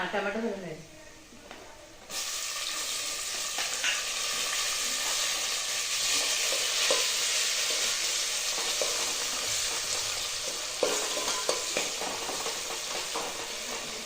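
Onion and masala fry in a pan with a loud, steady close sizzle while being stirred. A voice speaks over the frying.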